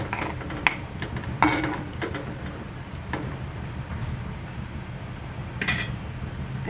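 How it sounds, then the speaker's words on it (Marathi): Stirring prawn masala in a pan: a few sharp spatula scrapes and knocks over a low, steady sizzling hiss, with no voices. "परत एकदा मिक्स करा"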